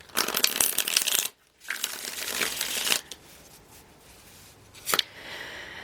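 Cards are shuffled in quick riffling bursts, a long flutter followed by a second, then softer handling and a sharp final snap.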